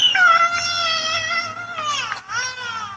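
A 2-year-old girl cries after a coyote attack outside a car in Los Angeles, captured by a security camera: loud, continuous wailing sobs with rising and falling pitch and a brief catch in the middle.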